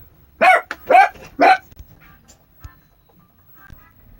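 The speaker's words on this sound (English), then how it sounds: "my dog started barking" A dog barks three times in quick succession, close and loud indoors, followed by quiet with a few faint small sounds.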